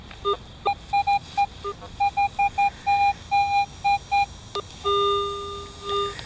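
Metal detector giving tones over a possible coin target at a pre-Civil War site: a run of short, clear electronic beeps in an irregular rhythm, then longer held tones, all fairly loud over faint outdoor background.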